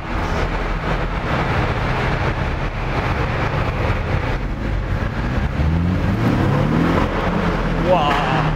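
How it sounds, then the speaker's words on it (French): A Porsche 718 Cayman S engine accelerating from inside the car, a steady loud drone with a rising pitch sweep toward the end, with some talk mixed in. "Je vais faire une petite accélération pour ouais."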